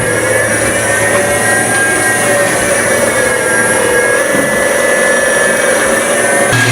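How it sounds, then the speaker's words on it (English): A switched reluctance motor running forward on a 150 V DC supply gives off a loud, steady whine with high tonal lines and an even hum throughout, close by and with no talk. "The duty cycle increase means motor will be rotating in forward direction."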